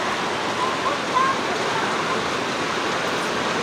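Heavy rain pours down steadily over a vegetable garden, a dense, even wash of noise that holds at a constant level from start to finish.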